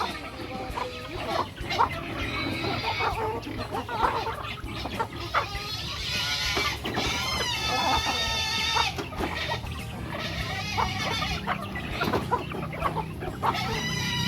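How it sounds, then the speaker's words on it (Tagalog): A crowd of chickens clucking and squawking continuously, busy and overlapping, close by with a noisy farmyard din throughout. "Ang daming manok."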